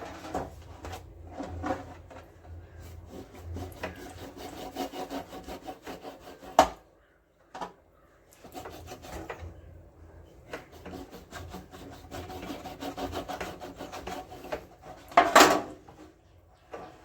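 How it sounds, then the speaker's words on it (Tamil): A knife scores deep slits into a pomfret fish, a close, repeated rasping and scraping with short pauses and a few sharp knocks against the board, no talk over it. "நல்லா இப்படி ஆழமாக கட் பண்ணிக்கணும்."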